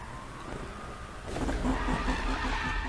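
A car drifting in Need for Speed 2015, with steady engine drone that swells midway into louder revving as the tires skid and squeal through a slide.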